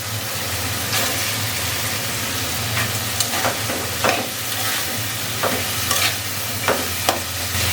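Fish head frying in spiced, oil-released masala for a fish-head eggplant dish, a steady loud sizzle with intermittent scraping stirs throughout.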